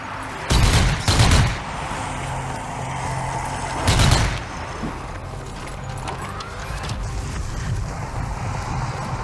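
Sniper rifle shots and gunfire in Zombie Army 4: Dead War, set in an asylum level: a loud double burst of shots near the start, a single heavy blast about a third of the way in, then quieter rumbling battle ambience.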